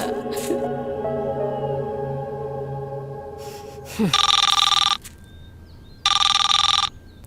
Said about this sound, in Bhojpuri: माई, भैया के सास के फोन आइला।